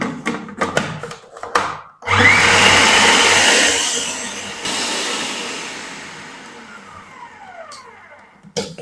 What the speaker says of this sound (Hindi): तो इनको ना हम अच्छी तरह ग्राइंड कर लेंगे ब्रेड को